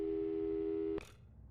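A telephone tone from the game Portal 2 holds as a steady, clean electronic hum for about a second, then cuts off abruptly with a click, leaving quiet background.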